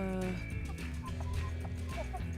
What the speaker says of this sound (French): J'ai une vraie passion pour les poules